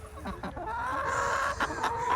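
A chicken clucks and calls near a duck enclosure, a few close, repeated bursts over steady outdoor background noise.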